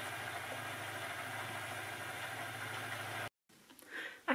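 Steady motor hum of an EEW 6.0 electric spinning wheel running at an even pitch for about three seconds, then switched off abruptly, followed by faint handling noises.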